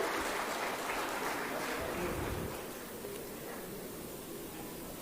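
Audience applause in a hall welcoming a woman entrepreneur onto the stage at a government self-employment scheme event, a steady dense wash of clapping that eases slightly halfway through, with no talk over it.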